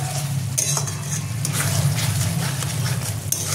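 Chicken and masala stirred in a pan while cooking down until the oil separates: a steady low sizzle with scraping and clinking of a spoon against the pan at intervals, close and continuous, with no talking.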